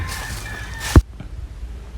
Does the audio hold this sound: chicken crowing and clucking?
yes